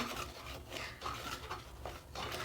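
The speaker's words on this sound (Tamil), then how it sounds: "ரவா போட்டுடலாம் அப்படியே வறுத்துருங்க" Semolina (rava) being dry-roasted in an empty kadai for wheat idli, giving steady scraping and rubbing strokes of a spatula against the pan in a repeating rhythm, close and clear with no talk.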